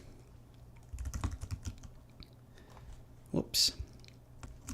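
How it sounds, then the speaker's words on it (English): Typing on a computer keyboard, with soft, near key clicks in short bursts and a single spoken word partway through. "Type in that name correct here."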